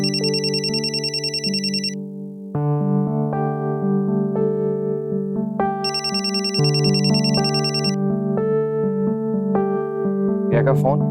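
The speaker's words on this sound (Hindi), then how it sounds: "प्रिया का फोन।" A mobile phone ringtone plays a loud, bright electronic melody of stepped tones, with a high chiming figure that repeats twice, sounding close and continuous with no talking.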